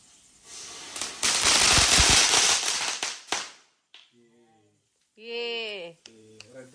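Piri piri firecrackers set off during a Vishu celebration burst into a loud, dense crackling roar lasting about three seconds, ending in a few sharp pops, followed by people talking nearby.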